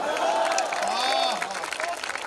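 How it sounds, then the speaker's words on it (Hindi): An audience at a Hindi comic poetry recital breaks into brief, scattered clapping. A voice with sliding pitch carries over the applause. "तालियां कम है आपकी।"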